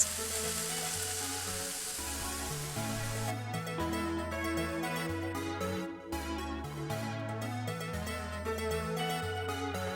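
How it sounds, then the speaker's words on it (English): Tofu sizzles in a skillet with broccolini and shiitake mushrooms, a steady frying hiss running the full length beneath prominent background music. "And then we return the tofu to the skillet."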